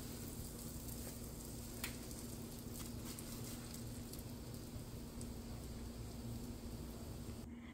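Burger buns fry lightly in butter in a pan, making a faint, steady sizzle that continues throughout with no talking.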